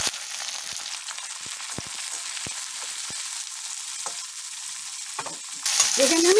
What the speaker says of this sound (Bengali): আমি প্রথমে পেঁয়াজ দিচ্ছি। তেল গরম হয়ে গেছে